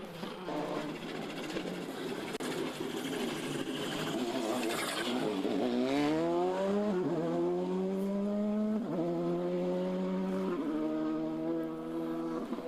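A rally car on a stage of the Clonakilty Hotel West Cork Rally 2023 rounds a corner and pulls away, its engine climbing through several rising gear changes, loud and steady against a constant background.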